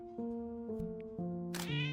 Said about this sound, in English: Scared the shit out of the cat